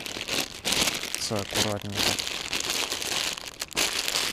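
Plastic bag crinkling near a riverbank while rubbish is packed up after evening crucian carp fishing, a steady rustle running throughout under a man's speech.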